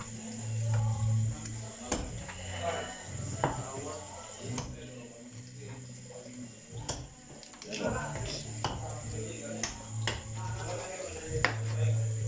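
Ingredients for Filipino kaldereta sautéing in a pan, a soft sizzle under frequent conversation, with intermittent clinks and scrapes of a utensil against the pan.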